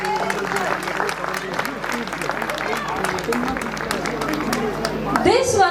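An audience applauds a children's stage performance at a school event: a dense, continuous clapping crowd with voices mixed in, rising slightly at the end.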